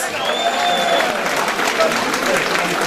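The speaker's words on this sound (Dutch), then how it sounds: "Maak een daarvan applaus voor die twee kanjas!" A crowd at a party event applauds for two people, steady clapping filling the space while a voice carries over it, with a whistle-like tone sliding above the claps.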